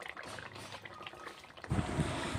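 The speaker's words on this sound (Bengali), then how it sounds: "গ্রেভিটা কিন্তু এরকমভাবে ফুটে এসছে।" Prawn malai curry gravy simmers and bubbles in a pan, a soft, close bubbling that grows fuller and louder toward the end.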